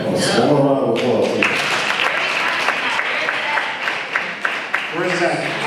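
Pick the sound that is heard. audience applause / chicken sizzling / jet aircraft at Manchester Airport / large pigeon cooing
audience applause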